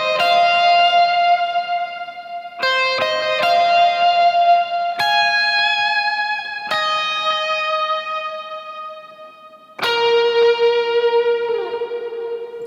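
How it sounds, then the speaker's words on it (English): Electric guitar lead line from the first chorus of a song, played through a Line 6 Helix with effects: sustained, reverb-washed single notes changing every second or two, close and steady, with no talk. "when we get into that first chorus, there's that lead part"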